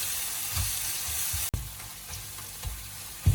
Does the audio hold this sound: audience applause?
no